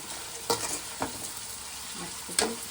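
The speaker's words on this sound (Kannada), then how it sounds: "ಮೆಣಸಿನ್ಕಾಯಿ, ಈರುಳ್ಳಿ ಹಾಕೋದು ಎಣ್ಣೆ ಒಳಗೆ." Green chillies and chopped onion fry in hot oil with a steady close sizzle, broken by a few sharp scrapes and knocks of a stirring spoon against the pan.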